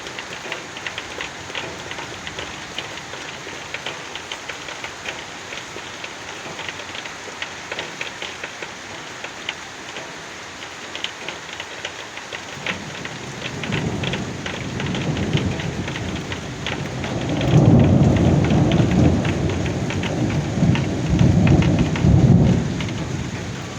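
Heavy rain pours steadily in Tbilisi. Thunder rumbles in from a distance and grows louder and closer toward the end. No one speaks.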